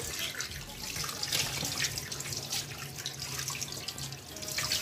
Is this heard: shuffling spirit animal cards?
no